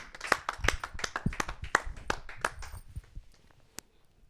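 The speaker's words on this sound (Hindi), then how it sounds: "आप सबकी जोरदार तालियों से" Scattered, sparse clapping from a small audience at a Hindi poetry gathering welcoming a poet, a dozen or so distinct, uneven claps that thin out and stop after a few seconds.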